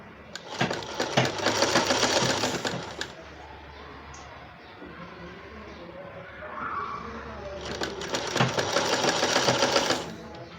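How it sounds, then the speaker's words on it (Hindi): A sewing machine runs close by in two fast, rattling bursts while stitching a strip onto a baby frock, with a quieter stretch between them. "अभी इस तरह से इसके ऊपर से हम सिलाई लगाएंगे पट्टी के"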